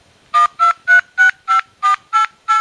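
Keypad tones sound on a Kin Two phone as a number is dialed, eight short evenly spaced beeps in a quick regular rhythm, clear and alone.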